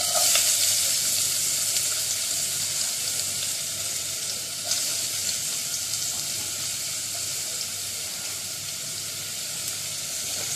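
Chopped onions frying in hot oil with cumin and asafoetida, a loud, steady hissing sizzle that continues close up throughout with no voices.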